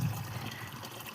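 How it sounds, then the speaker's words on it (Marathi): Water pours from a small metal pot onto crops in a farm field, a short, quiet splash and trickle. "मस्त आपल्या तांब्यानं पाणी घालायचं"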